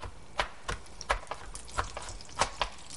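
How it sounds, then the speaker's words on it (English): A knife chops garlic on a cutting board in a home kitchen, a run of about eight sharp, close knocks at an uneven pace, with light background noise between strokes. "So I'm going to work on chopping up this garlic for a minute."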